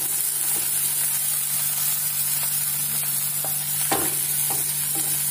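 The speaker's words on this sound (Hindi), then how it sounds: "ऑयल डालने के बाद हम इसमें डाल देंगे 1 onion and 1 capsicum which are finally chopped" Finely chopped onion and capsicum sizzling steadily in hot oil for red sauce pasta, with a constant hiss and a few light clicks of stirring against the pan.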